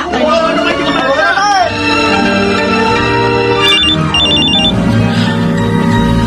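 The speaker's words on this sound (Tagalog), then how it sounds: "Kanina pa nagre-ring ang cellphone ni Reynan." A cellphone rings in a home living room, a repeating electronic ringtone melody with bright tones, heard under background music and other noise.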